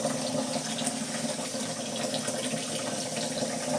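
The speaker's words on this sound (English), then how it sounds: "Turn that water on." Water runs steadily from a kitchen tap in a continuous, fairly close broadband rush that stays even throughout, with no talking over it.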